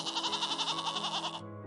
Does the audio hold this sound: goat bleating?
yes